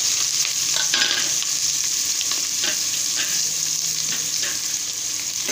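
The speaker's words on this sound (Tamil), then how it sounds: "ஆனியன் போட்டு நல்லா கிண்டி விடுங்க." Onions fry in hot oil in a pan while being stirred, a loud continuous sizzle broken by repeated spatula scrapes against the pan, close and without voices.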